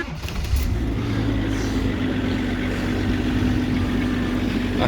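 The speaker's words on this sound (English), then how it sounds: "Let's pump some air into the system." Air suspension pump on a Range Rover P38 running steadily, a loud continuous motor drone with a low hum that persists unchanged throughout.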